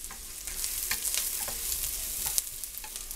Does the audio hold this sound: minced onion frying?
yes